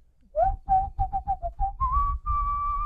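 A person whistles the opening of a song, a run of short, clear, separate notes that ends in two long held tones, close and alone.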